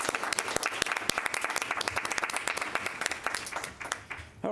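A committee at a meeting claps in appreciation, a few close, distinct hand claps over a busier patter of applause lasting several seconds.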